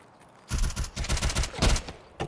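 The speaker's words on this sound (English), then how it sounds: "Oh, we just got shot at from behind." Rapid bursts of gunfire erupt in an Escape From Tarkov match in the Woods map, several clustered automatic volleys over a couple of seconds, fairly close and sharp, with a final quick pair of shots at the end.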